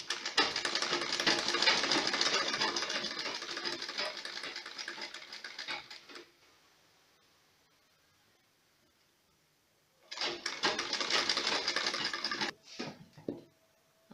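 A sewing machine stitches a sleeve in two runs of fast, rhythmic needle chatter, separated by a few quiet seconds.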